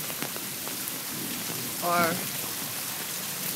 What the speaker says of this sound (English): And there's thunder and lightning.